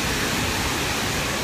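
Heavy rain pours down in Brazil, a dense, steady broadband roar with no breaks, loud and close throughout.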